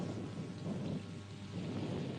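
Steady rain with a low rumble of thunder on a cricket day, a continuous, fairly faint wash of rainfall and distant thunder with no voices.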